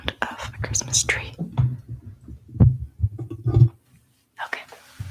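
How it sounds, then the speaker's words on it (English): A soft, regular heartbeat thumps faintly through a thumb pressed against an old book, several low pulses under close whispered speech. "holding it with my thumb, you can hear my heartbeat"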